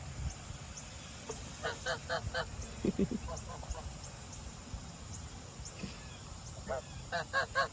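Geese honk in short repeated bursts of three or four calls, fairly close, over a low rumbling background.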